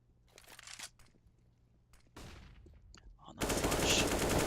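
Bursts of AK rifle spray fire in a Counter-Strike match, a few scattered shots early, then a denser volley near the end that grows into a loud, sustained burst.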